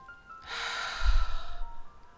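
A slow, deep breath drawn and released during a relaxing meditation, one soft, airy inhale-exhale, close and quiet, with no talking.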